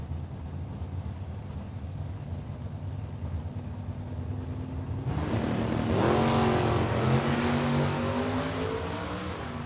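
Drag race cars launch side by side at a Super Pro bracket event, one of them Jason Preston's Camaro. A steady engine drone swells halfway through into a louder roar that stays heavy to the end, heard from a distance with no talking.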